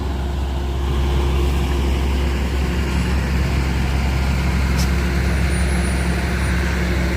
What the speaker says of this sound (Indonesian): Oke, ini truk trailer ya bosku.